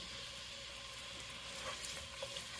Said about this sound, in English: Once that oil starts to get warm, we're going to add in some more onion.